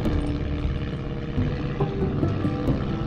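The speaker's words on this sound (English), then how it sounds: "Oh, you hear airplane too." A propeller airplane drones overhead above a boat on Florida's coastal waters, a loud steady rumbling hum that persists for the whole stretch without talk.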